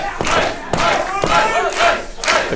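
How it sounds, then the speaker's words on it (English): A wrestling crowd roaring and chanting in support at a live match, several loud surging bursts of cheering and shouting in quick succession. "The crowd trying to show some support, get some power into Ace there"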